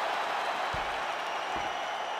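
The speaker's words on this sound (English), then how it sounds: "Stand and cheer, ladies and gentlemen." A UFC arena crowd cheers and claps in a thick, steady roar after Choi Doo-ho's 25-minute bout in the Octagon, with a couple of low thumps breaking through the noise.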